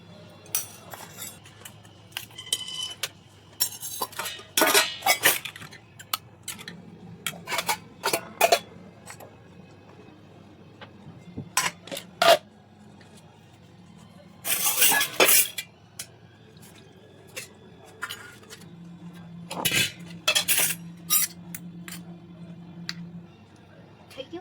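Steel cutlery and dishes clink and scrape at a home meal of okra curry with yogurt, rotis, onion and buttermilk, with sharp irregular taps spread over a quiet background and occasional brief low hums.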